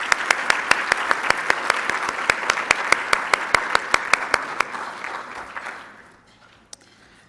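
Audience applause for award recipients at a peace and dialogue awards event, steady clapping with sharp individual claps standing out, loud and sustained before tapering off and fading out near the end.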